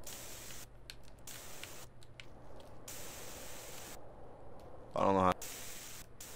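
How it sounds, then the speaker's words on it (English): A brief hissing burst of spray paint from a can in the video game GTA San Andreas, under a steady noisy game background, with a person speaking briefly. "Wait, is that spray paint?"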